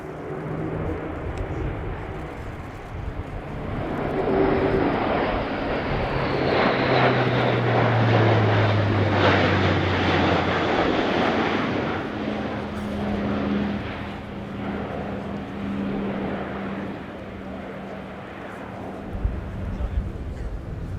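A German Air Force Airbus A400M Atlas turboprop transport roars through a flying display at an airshow, its propeller drone swelling and shifting in pitch as it passes, loud and sustained throughout.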